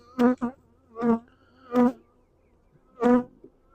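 Several short, close buzzing bursts from honeybees at a hive in an apiary come with brief quiet gaps between them, about four separate swells of droning hum.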